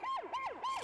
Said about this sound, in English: When's he gonna stop with his siren?